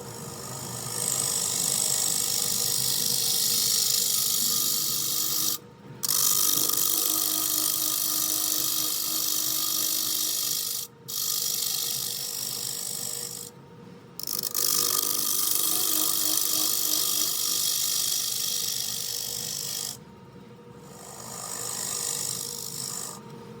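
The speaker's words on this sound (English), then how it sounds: "get the negative rake scraper out" A negative rake scraper works a camphor wood salad bowl spinning on a wood lathe, giving a steady, loud rasping scrape that runs almost continuously, broken by a few brief pauses where the tool lifts off.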